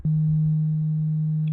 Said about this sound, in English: So this is just creating a really simple sine wave